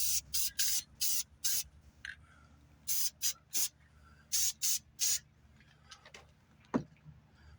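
Lacquer sprays onto a vintage outboard outdoors on a calm day, in a series of about ten short, sharp hissing bursts at an uneven rhythm, with brief quiet pauses and a faint tap near the end.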